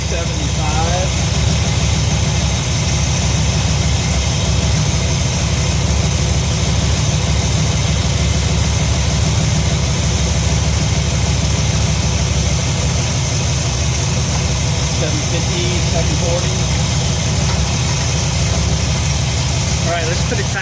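Ford 302 V8 in an F100 pickup idles at around 775 rpm, a loud, steady, continuous rumble throughout, with a voice talking faintly over it.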